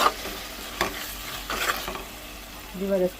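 Mutton curry gravy with salt and chilli sizzles in a pan while being stirred, with soft scraping strokes over a continuous close frying hiss.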